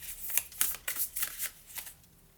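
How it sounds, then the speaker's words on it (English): A deck of oracle cards being shuffled by hand during a tarot-style reading, a quick run of crisp riffling bursts close up, with no voices. "Oh, I feel like I need to shuffle again."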